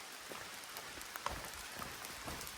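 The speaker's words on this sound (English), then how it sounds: "Can you hear the rain?" Soft, steady patter of rain falling through trees along a hiking trail, a continuous diffuse hiss with scattered drips, fairly quiet and without voices.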